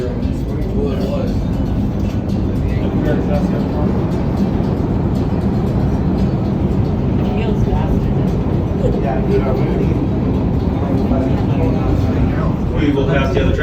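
Steady rumbling hum and rattle inside a Palm Springs aerial tramway car during the ride, continuous and moderately loud for the whole stretch with no break.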